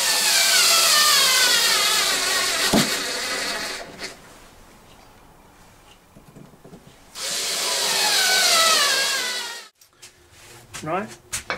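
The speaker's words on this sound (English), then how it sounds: "screw this in. Can't recommend an electric screwdriver enough for this kind of a job" Electric screwdriver driving a screw into wood before lathe turning, two close whining motor runs of a few seconds each, separated by a quieter stretch with handling noises.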